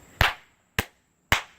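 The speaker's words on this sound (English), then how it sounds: "We're going to clap 3 times" Three sharp hand claps, evenly spaced and crisp, each with a short fading tail, close and alone with no voices.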